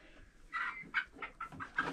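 Chickens give soft, close clucks and short squawks while being carried to a new coop at night, a few quick irregular bursts over quiet background, with no talking.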